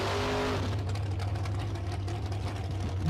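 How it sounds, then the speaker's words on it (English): A dragster launches down a drag strip during a race, its engine a loud, sustained roar from start to finish, with an early tonal whine that fades as the run continues. "Going against Jared Burtis in the left in the dragster, down 488."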